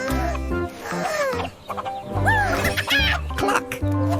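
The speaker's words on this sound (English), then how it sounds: "You mean Rojo is crowing too loudly?" A rooster crows loudly and clucks on a cartoon farm, with several rising calls and clucks close to the listener over a steady low background.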